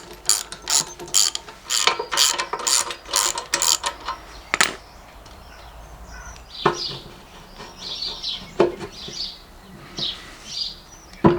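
Bolts being undone on the bucket spindles of a mini excavator, heard as a close, fast run of ratcheting clicks, then scattered single clicks and knocks with pauses, as birds chirp faintly outdoors.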